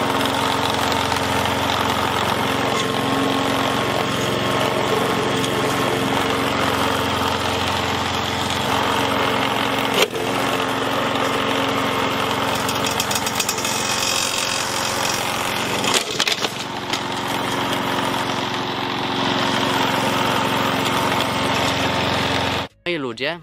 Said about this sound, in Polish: Teraz test z kosiarką.